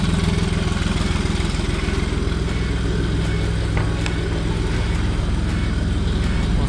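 A Smart car engine idles close by with the EGR valve not closing fully, a steady, slightly uneven rumble and faint ticking, continuous for the whole stretch.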